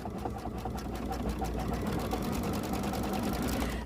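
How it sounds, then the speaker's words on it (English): A Baby Lock sewing machine stitches a decorative pattern in turquoise thread in the center of an embroidered egg, giving a steady, rapid mechanical whir and patter, close and continuous, with no talking. "I've just changed the thread to the turquoise color, and it's going to do the decorative stitch in the center of the egg"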